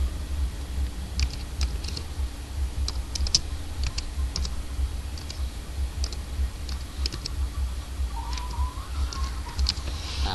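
Someone types on a computer keyboard in a room with a constant low hum. The key clicks are faint and irregular, sometimes single and sometimes in quick small runs.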